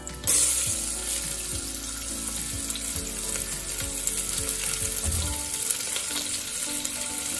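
Chopped onion sizzles steadily in hot oil with cumin, bay leaves and cinnamon pieces. A continuous frying hiss runs throughout, with soft spoon scrapes at intervals, close and fairly loud, and no voices.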